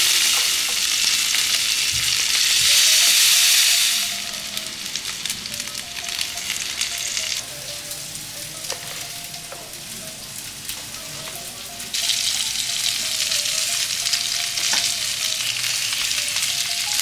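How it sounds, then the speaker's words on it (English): Pieces shallow frying in coconut oil with curry leaves, a steady loud sizzle with crackling bursts and occasional stirring clatter, with no voices. "Now shallow fry each piece."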